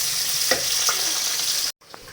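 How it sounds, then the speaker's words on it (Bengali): Chopped garlic, onion and green chili fry in hot oil in a pan, a close, loud, continuous sizzle with a couple of stirring scrapes, cutting off abruptly near the end before resuming faintly. "ঝাল রসুন পেঁয়াজগুলো ভাজা হয়ে গেছে"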